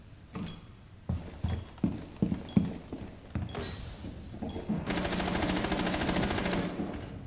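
Gunfire in Rainbow Six Siege on the Bartlett U map: several sharp, separated shots in an irregular rhythm, followed by a sustained rattling burst of rapid fire, fairly close.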